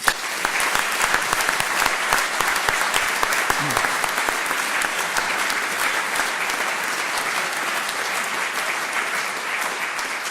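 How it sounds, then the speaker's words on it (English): A hall audience at a veterinary profession awards day gives a sustained round of applause. Loud, dense clapping runs without a break for about ten seconds, with faint crowd murmur underneath. "could we give Neil a round of applause, please?"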